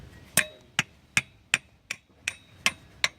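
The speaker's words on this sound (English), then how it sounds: "Hit it with a hammer." Eight sharp metallic hammer strikes on a disc brake pad and bracket during a rear brake job, spaced roughly evenly, close and clear with quiet between blows.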